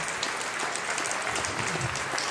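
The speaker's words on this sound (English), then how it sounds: "Big round of applause for our youth winner, Elliot Stanky." Steady applause from an audience at a fundraising event in Cochrane, Alberta, honoring a youth winner, with even, continuous clapping heard at a moderate distance and no talk over it.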